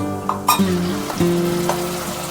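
Washed goat head dropped into a pan of fried onions for a village-style mutton dish, giving a close, steady sizzle with a couple of sharp bursts as pieces hit the hot oil.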